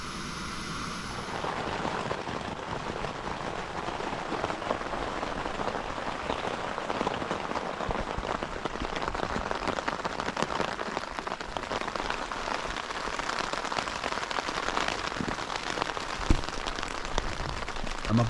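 Steady rain falls continuously at a Lake District wild camp, a dense hiss of drops pattering on surfaces, even in loudness throughout with no voices.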